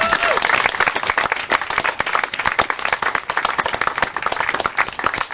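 Dense audience applause from a city crowd at an outdoor festival speech event, steady sustained clapping throughout with some voices mixed into the crowd noise.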